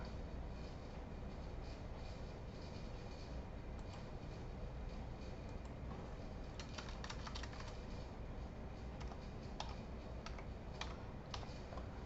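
Steady keyboard typing as a zip code is entered on a computer keyboard, small clicks running under a constant low rumble throughout, no talking.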